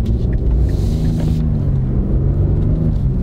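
A relatively heavy pickup truck with 300-plus horsepower rumbles at a drag strip, its engine a loud, steady low drone filling the short stretch.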